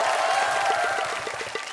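A studio audience on a comedy show breaks into applause, a steady wash of clapping and crowd noise that fills the whole short stretch before easing slightly at the end.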